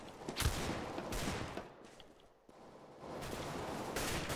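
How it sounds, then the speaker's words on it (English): Shotgun fire in Counter-Strike: Global Offensive on the Overpass map, heard as dense bursts of gunfire that come in waves and fill the whole clip with no talk. "He always playing with this shotgun."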